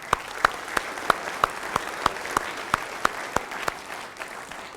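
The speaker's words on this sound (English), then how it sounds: "So give yourself another round of applause" An audience at the 89th Mississippi FFA State Convention claps in unison: about fourteen sharp, evenly spaced beats at roughly three per second, fading slightly at the end.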